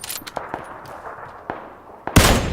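Scattered single gunshots pop faintly and at a distance across a desert map in a shooter game. At the end a sudden loud, close burst of gunfire breaks in.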